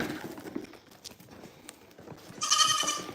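Goats on a farm are heard, with scattered hoof clatter and shuffling before a loud, close bleat rings out near the end.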